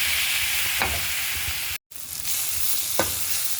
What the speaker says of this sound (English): add our chopped up tomatoes and just keep frying this for a few minutes